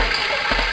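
Water pouring steadily from the overflow of a Green and Carter ram pump setup at Heligan, a continuous broadband rushing gush at constant loudness, close by, with no talk over it.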